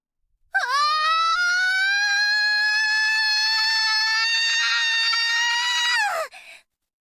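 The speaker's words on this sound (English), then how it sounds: "A scream, and then came release." A girl's long, piercing scream in the visual novel game Chuusotsu, one sustained high-pitched cry held for about six seconds before breaking off sharply, loud and alone.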